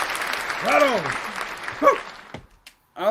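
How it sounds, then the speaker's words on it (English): Applause hisses under a lively speaking voice during a cruise-themed livestream chat, then cuts off into a short silence before the talk resumes. "A big round of applause to everyone who's in the chat"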